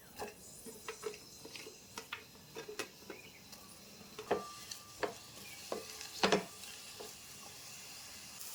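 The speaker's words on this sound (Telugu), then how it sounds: "3 పచ్చిమిర్చి, నిలువుగా తరిగిన ఆనియన్స్ ముక్కల్ని వేసుకొని ఫ్రై చేద్దాం." Green chillies and sliced onions fry in oil with whole spices, a steady soft sizzle broken by repeated close stirring and scraping clicks of a spoon against the pan.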